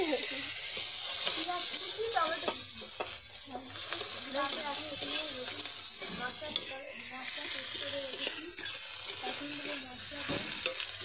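Cumin seeds sizzling in hot oil over a wood-fired clay stove, a steady bright hiss close by that runs throughout, with someone talking over it.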